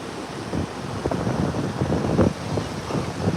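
Strong wind buffets the microphone at the beach, a loud rumbling roar with gusting surges and low thumps, while surf churns faintly underneath.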